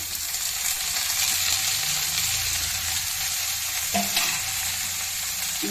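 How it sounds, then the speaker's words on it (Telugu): Chopped bottle gourd pieces get stirred into fried onions in a hot pan, a continuous close sizzle and frying hiss with a brief scrape of the spoon partway through, no talking. "ఇవి బాగా కలుపుకోవాలి, మిక్స్ చేసుకోవాలన్నమాట"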